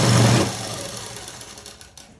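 A sewing machine stitching fabric gives a brief loud mechanical whir that fades into quieter running with faint ticks, close by and with no speech.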